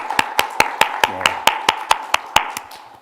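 Applause during a church worship service, heard as a steady series of sharp, evenly spaced claps close to the microphone, about five per second before tapering off, with a faint brief voice in the middle.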